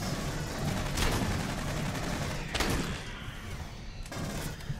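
Incendiary rounds fired in the Aliens: Colonial Marines video game, a dense stream of loud gunfire with several sharp, heavier blasts standing out.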